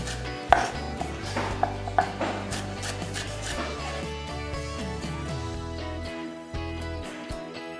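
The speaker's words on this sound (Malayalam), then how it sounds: "അപ്പോൾ അതിനെ സ്ലൈസ് ചെയ്യുക. അതുപോലെ സ്ലാൻഡായിട്ട് ഇങ്ങനെ കട്ട് ചെയ്യുക." A knife slices small spring onion bulbs on a cutting board for chilli chicken, giving a string of crisp, close chopping taps. The pace is irregular and quickens midway, then the sound thins toward the end.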